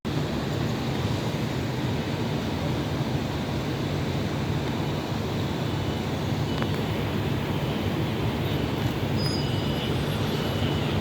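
A train at Taipei Station gives a steady, loud rumble of rolling noise that carries on without a break, with a faint high squeal near the end.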